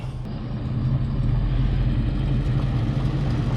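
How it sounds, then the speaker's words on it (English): A 1982 Chevrolet dually flatbed's 454 big block V8 runs with an exhaust leak, a steady low rumble close by that holds level throughout with no talk over it. "Little exhaust leak."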